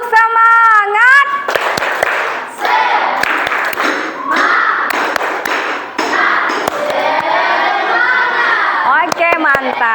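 A classroom of children performs the rhythmic 'tepuk semangat' clapping chant, sharp claps and thumps in quick patterns mixed with loud group voices chanting and shouting throughout, near and busy.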